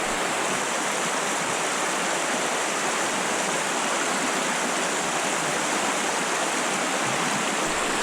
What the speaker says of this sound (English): I'm surprised there's actually water coming out of it.